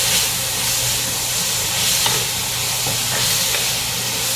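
Beef strips browning in a lightly oiled pan, a constant close hiss and sizzle with faint stirring, no talk.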